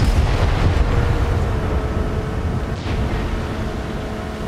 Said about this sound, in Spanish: ¡Mira esos fuegos artificiales!